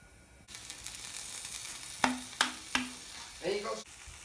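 Toothpaste sizzles on a hot pan: a steady frying hiss runs throughout, broken by three sharp crackling pops and a brief sputtering burst near the end, close and fairly loud with no talking.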